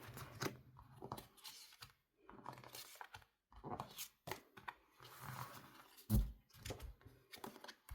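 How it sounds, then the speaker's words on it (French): Tarot cards are shuffled and drawn up close, in quiet bursts of rustling, sliding and snapping, with brief pauses and one sharper tap near the end. "Je vais prendre 3 cartes."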